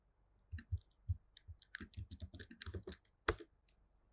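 Keys clack on a computer keyboard while a git remote path is entered at a command line, an uneven burst of close, crisp clicks with one sharper, louder strike near the end and no voices.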